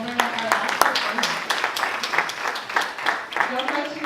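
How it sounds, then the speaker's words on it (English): A room full of people claps at a climate innovation salon, a dense, sustained patter of applause at moderate volume, with voices talking over it. "a round of applause for them"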